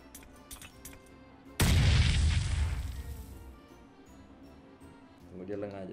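A grenade blast in the mobile battle royale game PUBG Mobile lands as one sudden heavy boom that decays over a couple of seconds, with lighter game noise before it and a voice at the end.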